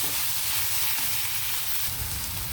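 Onions and tomatoes sizzle steadily in hot oil in a pan for mushroom curry, a loud continuous frying hiss with no talking.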